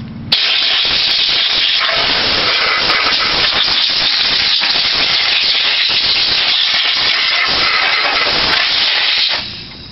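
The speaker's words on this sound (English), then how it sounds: "Once you've got it all apart, take your air compressor," Compressed air from an air compressor nozzle blasts loudly and steadily over disassembled vacuum cleaner parts and filters, a continuous harsh hiss lasting nearly ten seconds with no talking, cutting off abruptly at the end.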